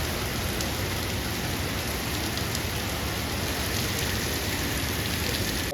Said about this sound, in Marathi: पण काही बाहेर भरपूर पाऊस आहे